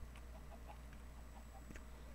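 Chicken clucks in a video game come as a few faint, short bursts over a low steady hum.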